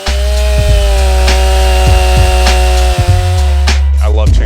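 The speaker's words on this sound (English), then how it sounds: "Today I'm going to be doing some fun stuff with my chainsaws." Stihl chainsaw engines, an MS 261 and a 500i, running loudly and steadily up close, with a few brief dips in pitch and rhythmic revving bursts throughout.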